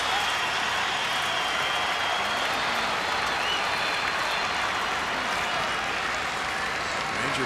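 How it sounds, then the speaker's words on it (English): Rangers fans behind their dugout at a Rangers–Astros baseball game stand and applaud, a steady, dense wash of clapping and crowd noise that holds at an even level the whole time. "Ranger fans standing and applauding behind their dugout."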